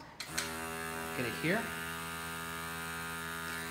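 A Ninja Duo countertop blender's vacuum pump draws air out through a lid valve with a steady, close electric motor whine and hum. A voice speaks briefly at the start.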